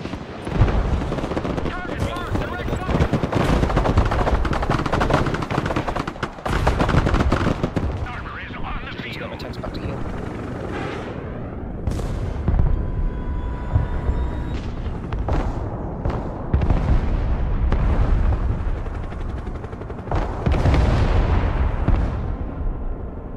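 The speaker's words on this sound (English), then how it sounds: "Artillery, yeah." Artillery and battlefield explosions in the real-time strategy game Broken Arrow: repeated heavy booms and gunfire bursts scattered across a loud, busy soundscape, with talk running over much of it.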